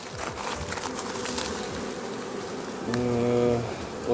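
Dense buzzing of many honeybees around a hive fills the air near and around, steady and continuous, with a closer bee droning louder toward the end.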